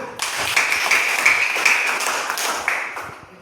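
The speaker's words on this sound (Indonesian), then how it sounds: "Tepuk tangan untuk kita semua" A grade 6 primary school class bursts into applause, dense, steady hand clapping from many pupils that fills the room, holds strongly, then thins and fades toward the end.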